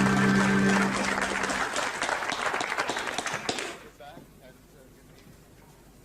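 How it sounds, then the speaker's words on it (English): Audience applause on a television show, a dense wash of clapping that begins loud with a voice over it, thins out, and fades to near silence after about four seconds. "after that fantastic round of applause"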